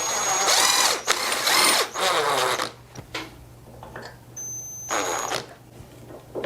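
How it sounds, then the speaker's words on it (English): A power drill drives a screw into a bench vise, giving several loud whirring bursts with short stops between, then quieter handling clatter and a final brief buzz. "As a very temporary solution, I will just drive a screw"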